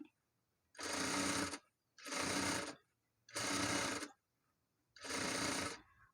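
Sewing machine stitching a smocked sleeve cuff, running in four steady bursts of about a second each with brief pauses between, close and clear with no talking.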